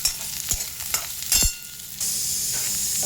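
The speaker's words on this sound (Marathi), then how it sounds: "आता बघा कांदा भाजते." Onion frying in a pan with a loud hiss, broken by a few knocks and scrapes of stirring before the sizzle settles into a steady roar for the last second.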